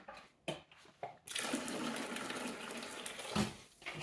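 Water runs into a green Dylon dye mixture after a few soft knocks, a steady gushing pour that swells and fades, close and fairly quiet.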